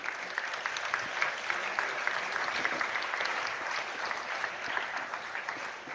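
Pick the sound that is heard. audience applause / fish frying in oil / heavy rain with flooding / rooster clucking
audience applause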